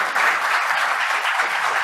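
Steady audience applause at a rail passenger association talk, a continuous even wash of many hands clapping at moderate distance, unbroken and with no voices over it.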